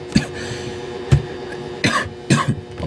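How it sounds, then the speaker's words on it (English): Several short coughs, close and fairly loud, spaced irregularly with a pair near the end, over a quiet background hum. "I'm sorry, I had a cough"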